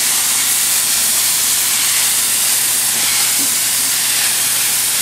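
Steam locomotive venting steam, a loud, steady, broadband hiss with a faint low hum underneath, continuous and unbroken, with no voices.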